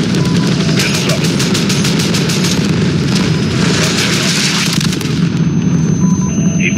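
Missile explosions in the Call of Duty: Modern Warfare video game, a dense stream of booms and bursts layered with rapid gunfire-like pops, loud and continuous throughout.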